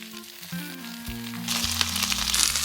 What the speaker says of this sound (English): Let's fry them.